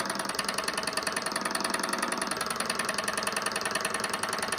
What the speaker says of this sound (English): you can hear that it bouncing on the table a little